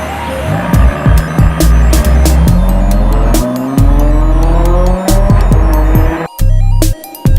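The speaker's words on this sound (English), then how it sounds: "I had to open up my exhaust permanently, so it's a little louder than stock" Loud Ferrari F12 Berlinetta engine with a permanently opened exhaust revving and roaring close by, pitch rising and falling with sharp popping bursts and brief drops.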